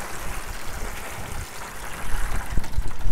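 Water poured into a container for bottom watering seed trays of wildflowers, a steady watery rush and trickle that grows louder toward the end, close by with no talking.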